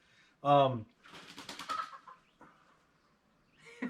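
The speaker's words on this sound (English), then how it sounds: "we have a bird that just got out" A bird, probably a chicken, in a garden gives a short loud call followed by scratchy clucking and rustling, close and fairly quiet, with a little sound at the end.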